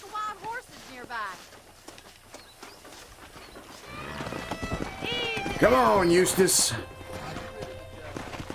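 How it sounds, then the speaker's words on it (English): Wild horses gallop in the open-world game Red Dead Redemption 2, with hooves clopping and a whinny rising under a voice, which gets louder and busier in the second half. "That ranch hand said there's a pack of wild horses nearby."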